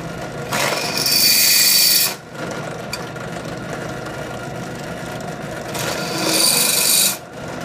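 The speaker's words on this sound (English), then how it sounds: "Now I'm going to countersink those holes with a larger drill bit." Holes in a knife handle are countersunk with a larger drill bit: two loud, bright bursts of whirring, cutting noise, each lasting one to two seconds, separated by a stretch of the lower hum of the running machine.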